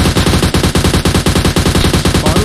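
Automatic gunfire in PUBG Mobile, a rapid, evenly spaced burst of loud shots that runs without pause for the whole stretch.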